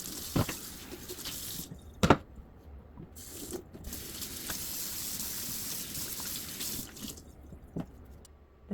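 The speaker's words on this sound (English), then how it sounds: "After I scrub the spatula in the pan, I will rinse them off." Water running from a kitchen tap while a spatula and pan are rinsed, a steady stream broken by sharp clanks and clatters of the utensils.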